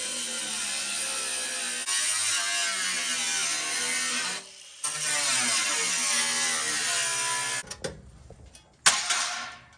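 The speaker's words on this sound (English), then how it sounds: "I'm gonna drill this out so we have some surface to weld onto." A power drill drilling out metal on a Nissan 240SX core support whines steadily in two long bursts with a brief pause between, grinding at close range, then stops with some clattering handling noise.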